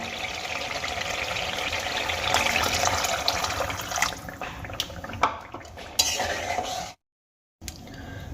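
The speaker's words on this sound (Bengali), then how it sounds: "পরিমাণ মতো জল আমার দিয়ে দেওয়া হয়ে গেছে" Hot water added to a spinach gravy in a pan: a continuous close wash of pouring and bubbling liquid mixed with light utensil clinks, ending in a brief silent gap.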